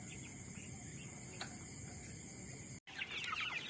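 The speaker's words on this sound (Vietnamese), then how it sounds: "Đây là đàn gà thả vườn đấy." Free-range chickens on a Vietnamese poultry farm cluck and call in a steady, close, noisy yard ambience, with a brief gap near the end before the bird calls resume louder.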